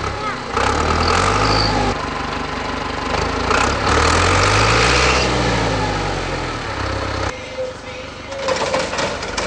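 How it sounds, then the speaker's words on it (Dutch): An old tractor runs loudly and steadily in a Dutch hayfield while it tedders (shakes out) cut grass, its engine drone and harmonics rising and falling, with people talking over it. "Dat is een oude trekker."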